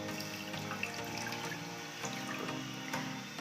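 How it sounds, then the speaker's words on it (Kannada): Water poured into a cooking pot holding cumin seeds for a home remedy, a soft continuous trickling stream, fairly quiet and steady with faint kitchen tones underneath and no talking. "ನಂತರ ನೀರು ಹಾಕೋತಾ ಇದ್ದೀನಿ."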